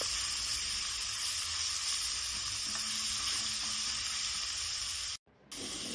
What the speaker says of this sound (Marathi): त्यात घालूयात फोडणीसाठी जिरे आणि वाटण टाकून छानपैकी परतून घेऊयात